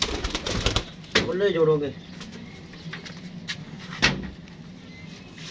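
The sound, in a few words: pigeons cooing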